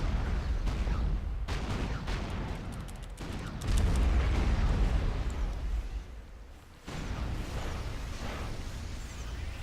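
Light artillery units in Supreme Commander fire in a continuous barrage of overlapping thuds, booms and crackles, loud and sustained with a brief lull before the rumbling resumes.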